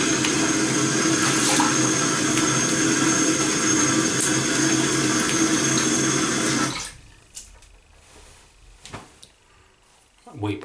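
Cold tap water runs steadily and loudly for about seven seconds while rinsing after a shave, then cuts off abruptly, leaving quiet handling noises and a brief splash near the end.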